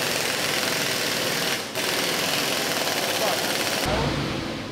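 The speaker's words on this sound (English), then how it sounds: "the boys start bolting down the turret ring" Pneumatic or power tool bolting down the turret ring of a WWII M3 Grant tank, loud continuous rapid rattling hammer bursts with a brief pause, then a change in tone near the end.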